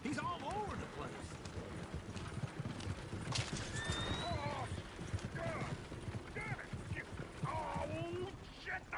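Horses pulling a coach in the video game Red Dead Redemption 2 clop their hooves and neigh repeatedly, with voices talking over the busy mix of hoofbeats and whinnies.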